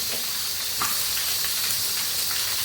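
Long-sliced onion fries in hot oil with spices for chicken biryani: a steady, loud, close sizzle and hiss that runs throughout, with a few faint stirring clicks and no talking.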